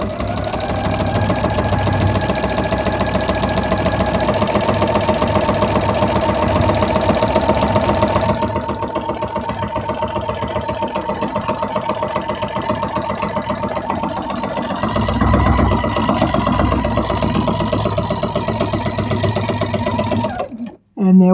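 A sewing machine quilts through five layers of fabric at a longer stitch length, running in a steady close whirring chatter for about twenty seconds with brief speed changes and a stop at the end. A voice talks over it at times.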